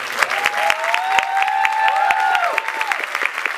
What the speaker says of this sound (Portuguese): a quem eu peço a vocês uma salva de palmas por essa molecada